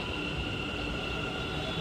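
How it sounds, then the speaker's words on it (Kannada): Steady, loud rumbling roar of a Namma Metro train running along in Bengaluru, with a constant high whine over the whole stretch and no voices. "ನಮ್ಮ ಮೆಟ್ರೋ"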